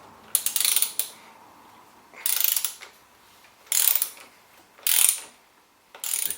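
A socket ratchet loosening bolts on a BMW R1200GS motorcycle, five bursts of rapid clicking spaced about a second and a half apart, close and crisp with quiet gaps between.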